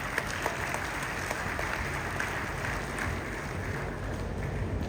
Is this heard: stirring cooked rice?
no